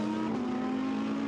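Ferrari GT race car on track during Blancpain GT World Challenge Europe 2019 qualifying in Hungary, a steady, loud engine drone holding one pitch throughout the short stretch.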